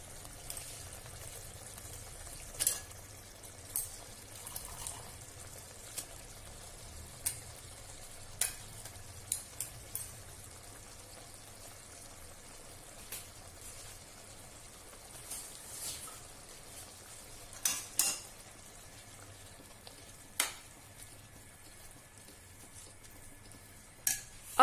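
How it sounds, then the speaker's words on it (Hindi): Bottle gourd and tomatoes fry in a pan with a low, steady sizzle, while a spoon clinks and scrapes against the metal at irregular moments. "अब ये टमाटर और घिया दोनों एक साथ पकेंगे।"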